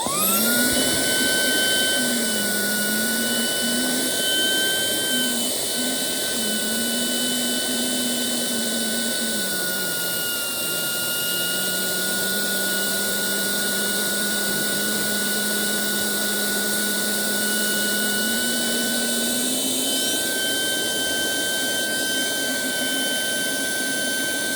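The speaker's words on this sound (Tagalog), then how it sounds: "Ito natin gawin yung vacuum." A vacuum cleaner sucking the air out while stuff is packed, a loud, steady whining roar held close for the whole stretch, with its motor pitch dipping and recovering now and then.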